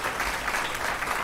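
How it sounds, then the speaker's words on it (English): An audience at a memorial lecture applauds together, a steady wash of clapping at moderate distance that fills the short moment with no pause. "I was hoping for another round of applause."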